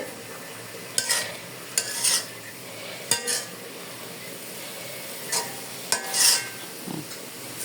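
Khesari greens are stirred in a pan with a spatula, giving periodic scraping clatters over a soft, steady sizzle.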